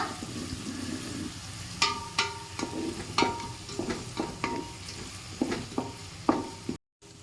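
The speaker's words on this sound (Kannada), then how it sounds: "ಚೆನ್ನಾಗಿ ಈರುಳ್ಳಿ ಫ್ರೈ ಆಗಿದೆ" Onions frying in a pan give a steady, close sizzle, broken by repeated sharp clicks and scrapes from stirring, with no talking.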